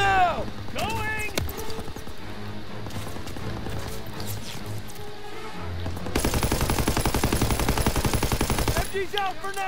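Shouted voices over battle noise give way to a sustained, loud, rapid stream of machine gun fire in Call of Duty WW2, running continuously for several seconds.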